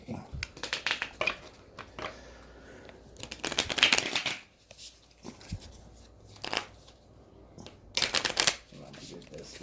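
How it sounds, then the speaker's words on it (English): Two decks of SkyTear game cards being shuffled together, several sharp riffling bursts separated by brief pauses, close and crisp, with quiet talk between them. "Shuffle both decks together"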